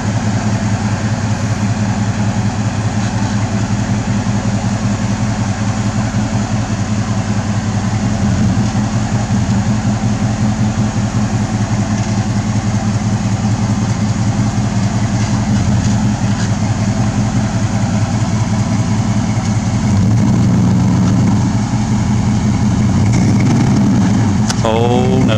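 A low-slung S10 pickup truck engine driving through a muddy rut, a loud steady rumbling drone that swells and strains toward the end, heard close up.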